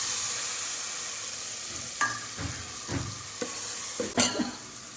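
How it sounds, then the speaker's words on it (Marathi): Masala spices frying in hot oil in a pan over a lowered gas flame, a steady soft sizzle with a few louder bursts of stirring and scraping near the end. "गॅस बारीक करते आणि मसाला तळून घेते आता"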